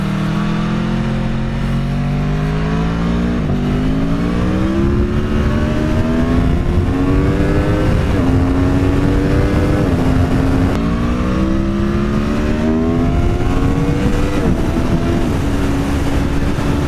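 A 2017 Aprilia Tuono RSV4 motorcycle engine revs hard and continuously, the pitch climbing through the gears with repeated quick throttle blips on downshifts, loud and close throughout with no talking.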